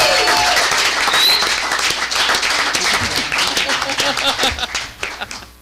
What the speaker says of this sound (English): Kelly managed to bring a cheering section with her.